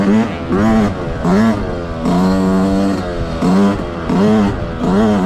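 A 2024 Yamaha YZ125X two-stroke dirt bike on a test ride, its engine repeatedly revving up and dropping back in loud, close, rhythmic surges.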